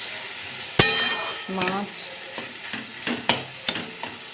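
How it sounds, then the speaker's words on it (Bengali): Lote fish (Bombay duck) cooks in a pan with onion and oil, a soft sizzle under repeated loud metal clanks and scrapes of a spatula against the pan. "এই যে লোটে মাছ রান্না হচ্ছে"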